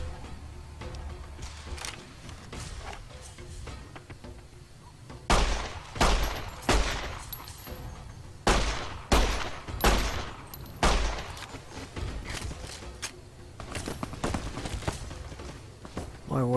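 Gunfire in Fallout: New Vegas comes as a string of loud, sharp shots in separate bursts, with quieter footsteps and game ambience between them.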